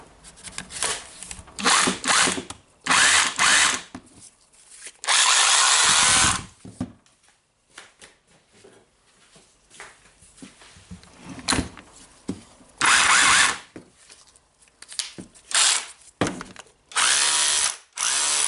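A repaired Makita 18V subcompact SDS rotary hammer drill is tested in short bursts, each loud whirring run starting and stopping abruptly with quiet gaps and handling noises between them.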